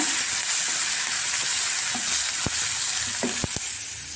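Chopped onions and green chillies sauté in a pan, a steady close sizzle with a few light spatula taps and scrapes against the metal.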